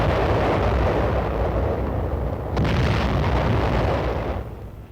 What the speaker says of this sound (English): 155 howitzer is zeroed in